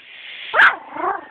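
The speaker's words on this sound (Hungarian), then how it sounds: "Látod, tudok vakkantani?" A three-week-old puppy gives a single short, high-pitched yap, close and fairly loud, followed by a softer whiny trailing vocalization.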